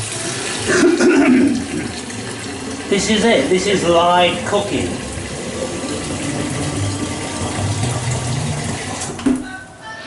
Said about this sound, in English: I'm going to have to boil the kettle again